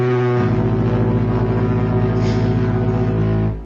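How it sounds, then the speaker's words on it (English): A foghorn sound effect played as a podcast accolade: one loud, deep, droning horn blast with a buzzy, brassy tone, holding steady for over three seconds before cutting off, with no talking over it. "he called it the foghorn, fart horn, whatever we call it"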